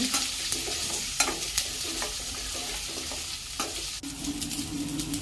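Onions and green chillies sauté in a pan for poori masala with a steady sizzle, broken by repeated scraping stirs of a spoon.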